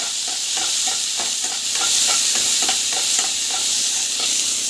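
Ingredients sautéing in a pan for a simple breakfast dish give a steady, close frying hiss, broken by regular scraping strokes of a spatula stirring through them. No one speaks.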